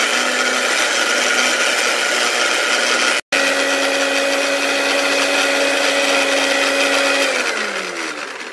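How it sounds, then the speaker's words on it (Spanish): Kitchen blender grinding eggshells with grated garlic, a loud, steady high whir heard close up, cut by one brief stop before the motor resumes and shifts pitch near the end. "vamos a tapar nuestra licuadora y vamos a licuar toda"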